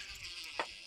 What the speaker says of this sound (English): that's awesome that we have bees visiting our weeds right now